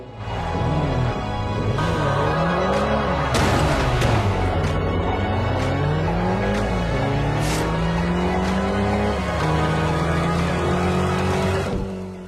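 Car driving in the Forza Horizon racing video game, a steady engine drone rising and falling with gear shifts and revs, tire squeals here and there, loud and continuous.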